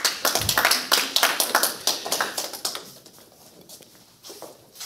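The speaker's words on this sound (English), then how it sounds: "Can we give Lorianne a round of applause, please?" An audience at a network marketing presentation claps in a brisk burst of applause that thins out and fades after a few seconds.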